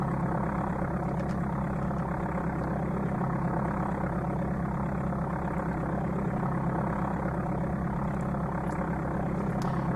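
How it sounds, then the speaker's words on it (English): A Cessna engine in the Amiga game Flight Simulator II gives a steady, unchanging low droning hum that runs continuously throughout. "Microsoft Flight Simulator engine sound for a Cessna"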